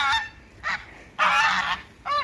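Domestic geese in a village honk loudly and close by, four separate nasal calls with short gaps between them.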